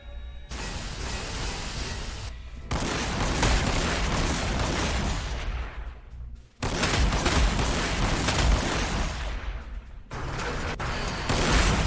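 In the Warhammer 40k Sanctus Reach video game, a super cannon fires in long, loud roaring bursts of broadband blast noise, separated by two brief abrupt cutoffs, with sustained rumbling between impacts.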